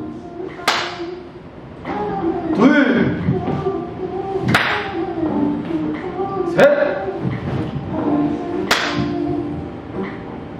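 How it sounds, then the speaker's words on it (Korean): Hand claps ring out sharply at regular intervals, about every two seconds, between the steps of a lower-body exercise class, and an instructor counts aloud over them. "발 바꾸고 박수 치는 걸로 하겠습니다"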